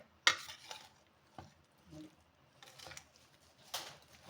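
Raw mango pickle pieces being mixed with spice masala, soft intermittent scrapes and wet stirring knocks in a container, quiet and sparse.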